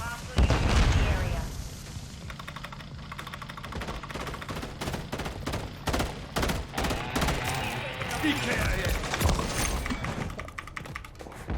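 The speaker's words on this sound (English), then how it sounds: "Tossing smoke grenade! Or throwing a stun grenade!" A grenade is thrown and explodes in a video game shooter, amid rapid bursts of gunfire, sharp clicking keyboard taps and loud popping blasts, with a voice talking over the action.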